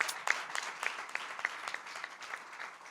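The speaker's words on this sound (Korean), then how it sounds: "우리 하나님께 영광의 박수 한번 돌리겠습니다." Church congregation applause during a Korean anniversary worship service, a sustained round of many hands clapping together in a hall, steady and moderately loud throughout.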